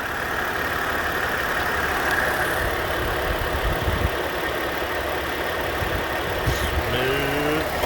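A Ford Escape XLT's Duratec 24-valve V6 runs quietly at a steady low hum, smooth and even throughout, with no voices over it.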